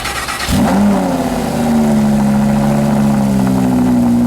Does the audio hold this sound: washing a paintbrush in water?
no